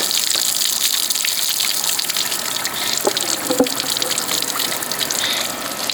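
Water from a DIY garden water feature falls onto a flat board, producing a continuous close splashing gush with no pauses.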